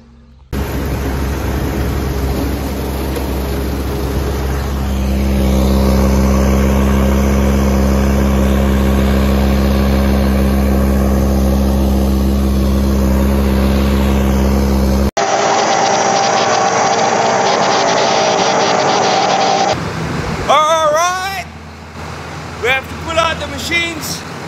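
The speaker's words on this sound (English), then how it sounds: "this is Venter Trust filling up with their beautiful little tractor" A beautiful little diesel farm tractor runs while it fills up at the fuel tanks, a loud, steady low engine drone that holds for about fifteen seconds before the scene cuts to other sounds and voices.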